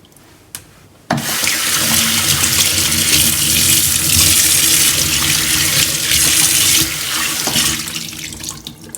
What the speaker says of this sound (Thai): แล้วก็ล้างไส้มันออกเนี่ย มันมีไส้อยู่